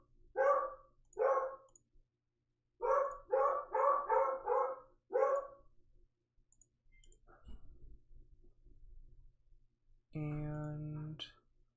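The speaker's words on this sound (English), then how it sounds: "I apologize about my dog in the background." A small dog barks in the background of a home office, first two barks, then a quick run of four or five, then one more, followed by quieter shuffling and a sustained tonal whine near the end.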